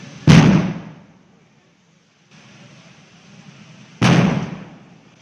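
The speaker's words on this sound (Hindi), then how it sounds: "लाहौर बरकत मार्केट में गैस सिलेंडर फटने से धमाका हुआ है।" Two sharp, loud bangs from a gas cylinder explosion at Barkat Market in Lahore ring out a few seconds apart, each decaying quickly, with a low murmur of background noise in between.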